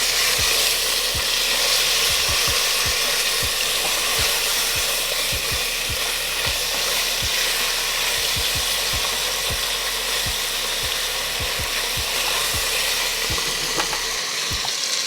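Tomato paste being stirred into a pan for BBQ short rib sliders, a steady loud sizzle with repeated low scraping knocks of the spoon against the pan throughout, no talking.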